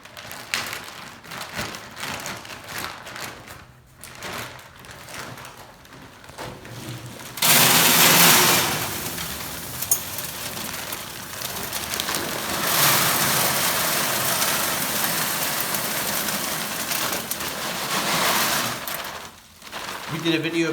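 Agway hardwood wood pellets pour out of a bag in a loud, rushing rattling cascade that surges suddenly and holds for several seconds, preceded and followed by quieter clatter and handling noises.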